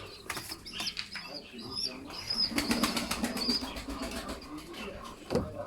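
Pigeons in a loft flap their wings in several bursts of fluttering, close by, with faint cooing and chirps scattered between the flurries and a short sharp knock near the end.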